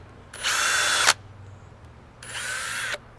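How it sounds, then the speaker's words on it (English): Power drill boring into the center of a wooden brace piece for a cheap raised garden bed, two separate whining bursts of under a second each with a short quiet pause between them. "Add our drill bit. We're doing the center of the wood here."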